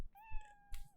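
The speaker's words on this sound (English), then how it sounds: "Cronut, your sweet orange cat rubs up against your chair leg with a throaty chirrup." An orange cat gives a single short meow, a clear rising-then-steady tonal call close by, with a couple of soft bumps around it.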